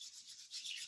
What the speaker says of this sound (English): We're going to bring our hands together and just rub them together.